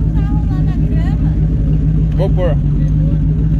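A Ford Galaxie V8 sends out a steady, deep exhaust rumble, close and loud, while people chat over it in Portuguese.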